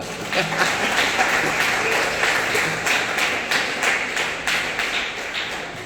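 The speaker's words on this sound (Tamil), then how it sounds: "கைத்தட்டு கைத்தட்டா" Congregation members clap their hands during a Tamil Christian sermon, a steady crowd of claps with some sharper taps standing out, moderately loud and continuous, with faint voices underneath.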